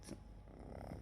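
A domestic cat purring close by, a soft, low, steady rumble lasting about a second, quiet and with no voices.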